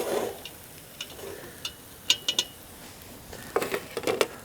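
A utensil stirs onions in a pan over a campfire, with light scraping and scattered metallic clinks and taps that are quiet and irregular, over a faint crackling background.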